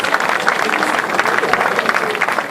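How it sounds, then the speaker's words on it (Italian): Audience applause at a literary and songwriting awards ceremony, greeting a town mayor on stage; dense, steady clapping at moderate loudness, continuous for a few seconds. "Facciamo l'applauso al sindaco di Domus Novas, Massimiliano Ventura."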